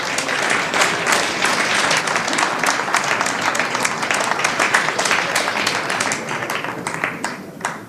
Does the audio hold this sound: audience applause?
yes